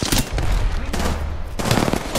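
Rapid automatic gunfire in the Apex Legends video game, loud and near, in sustained dense bursts with a brief break before another volley; a voice is faintly present underneath.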